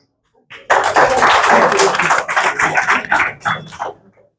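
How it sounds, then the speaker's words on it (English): An audience at an alumni talk event gives a short round of applause, dense close clapping that starts abruptly, holds for a few seconds, then thins into scattered claps and fades out. "Please welcome them with a round of applause."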